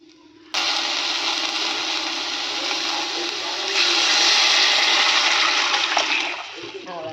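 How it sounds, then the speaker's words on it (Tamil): Tamarind water poured into frying masala for rasam hits the hot pan with a sudden loud hiss and sizzle that holds steady, swells midway, then eases off, heard close up. "இப்போ நம்ம அந்த புளி தண்ணியை சேர்த்துடலாம்."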